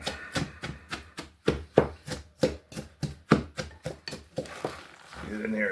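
Cabbage pounded and ground with Himalayan salt for sauerkraut, a steady series of about a dozen sharp, close thuds in an even rhythm, with a person speaking over the work.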